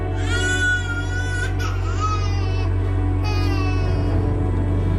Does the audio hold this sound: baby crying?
yes